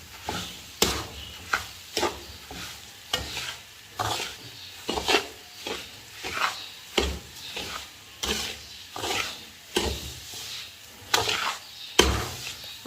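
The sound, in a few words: stirring and frying suji halwa with sugar in a kadhai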